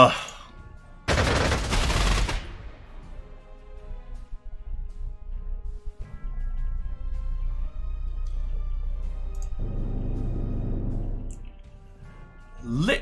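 Fighter aircraft gunfire at an enemy plane in the strategy game Panzer Corps 2: a loud, harsh rattling burst a little over a second long, followed by quieter droning and tonal game sounds with talk.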